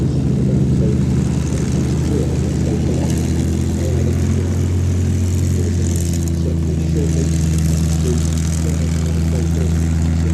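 A Boeing B-17 propeller bomber drones past at an airshow, a loud, steady multi-engine roar with a deep throbbing hum that holds throughout, with talk faintly beneath it.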